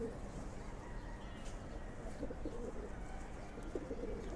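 Silver pigeons cooing softly in a loft, low murmuring coos against a steady background hum, with a faint voice now and then.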